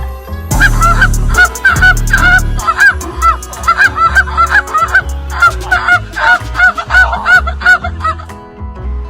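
A man imitates goose honks with his mouth, producing a rapid, loud run of repeated nasal honks and clucks over several seconds, closely mimicking a flock of calling geese.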